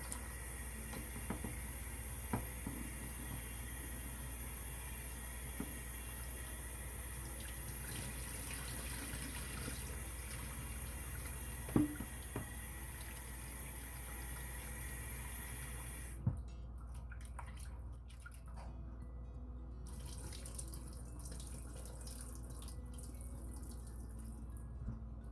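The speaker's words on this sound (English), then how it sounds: "I rinse." Tap water runs steadily into a kitchen sink while fish fillets are rinsed, with a continuous gush and occasional clinks and drips. The flow cuts off abruptly near the end, leaving a quieter trickle.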